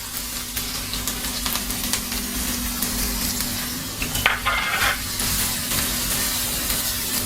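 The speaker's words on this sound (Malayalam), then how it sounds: "നല്ലതുപോലെ ഒന്ന് വറുത്തെടുക്കുക, ഒരു ലൈറ്റ് ബ്രൗൺ ആകുന്നത് വരെ." Ginger fries in a pan until light brown for a ginger yogurt dish, giving a continuous close sizzle broken by occasional stirring scrapes and clinks.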